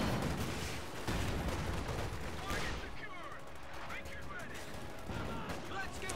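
Rattling bursts of gunfire and battle noise from a real-time strategy war game, dense and continuous under a commentator's voice.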